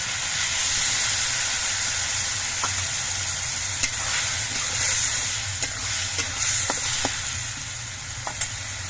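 Potatoes fry with tomato paste and a mixed spice paste in a pan, a loud, constant sizzle and hiss. Occasional light clicks of stirring sound close over it.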